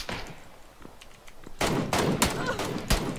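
Shooter-game gunshots: a quieter opening with scattered faint pops, then from midway a loud run of close automatic fire in quick bursts.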